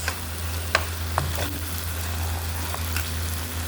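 Chopped beef skin sisig with chili sautéing in a pan gives a steady, close sizzle with a few sharp clicks of stirring over a low hum.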